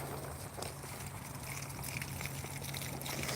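A garden hose splashes water steadily into small tree trays outdoors, a continuous trickling and pouring wash at a moderate distance with no talking.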